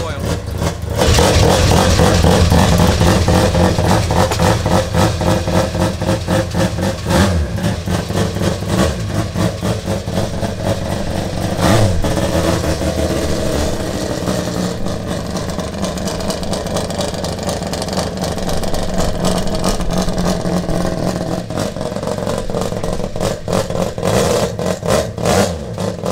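An E Production race car's turbocharged engine with competition oil bearings idles loud and close, a steady rough rumble with slight swells in revs throughout.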